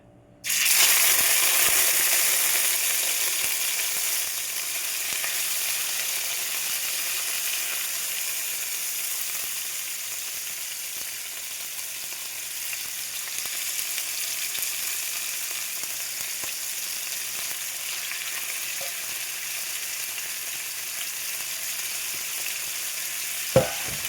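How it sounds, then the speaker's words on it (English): Fish and prawns hit a hot pan for a seafood pasta and sizzle loudly at once, a bright steady frying hiss that eases slightly and continues with a small clatter near the end. "We are going to put in our fish and the prawn together."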